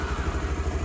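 Adventure motorcycle idling just after a cold start, with a steady low, pulsing engine throb at close range, no talk.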